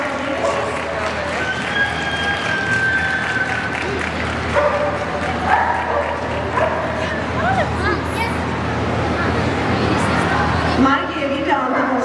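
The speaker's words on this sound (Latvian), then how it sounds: "Un iepazīšanos sāksim ar Bernes ganu suņiem." Several large Bernese mountain dogs bark loudly and repeatedly amid crowd noise and a voice over a loudspeaker at a ZooExpo breed demonstration, with occasional yips and whimpers.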